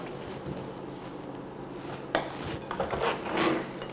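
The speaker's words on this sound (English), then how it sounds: "So we're gonna mix that up." Black gel food coloring is stirred into cookie icing in a small bowl, a close, quiet rubbing and scraping that starts faint and grows into a few louder, quicker strokes near the end.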